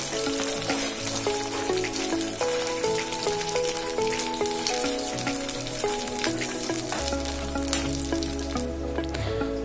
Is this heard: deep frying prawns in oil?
yes